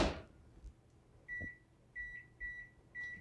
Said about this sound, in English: they need to go into the microwave. I'm going to cook it for 1 minute